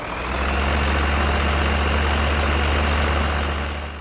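A Case IH Steiger 9190 tractor idles in Farming Simulator 15, its heavy engine giving a loud, steady low rumble with an unbroken drone throughout and no voices.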